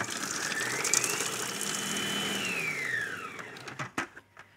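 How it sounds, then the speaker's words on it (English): A food processor blitzes garlic and blanched almonds into a fine crumb, a loud close whirring grind that rises then winds down and stops with a few clunks. "now the lid can go on and I'll blitz it until it's a fine crumb"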